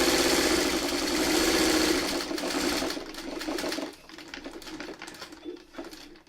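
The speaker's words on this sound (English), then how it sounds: "I'm going to start sewing these blocks together just like a 4-patch." Sewing machine stitching quilt blocks together in a steady rapid mechanical whir that runs continuously, then slows and turns choppier toward the end as stitching eases off.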